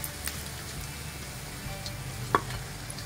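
Potato-stuffed bread rolls frying in hot oil on a low flame, giving a steady, quiet sizzle with faint crackles and one brief louder pop, no voices over it.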